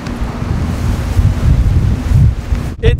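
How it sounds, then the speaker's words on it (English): Strong wind buffets the microphone in heavy, rumbling gusts, loud and continuous, with a brief dropout near the end. "It's so windy that I think that the tripod could fall over"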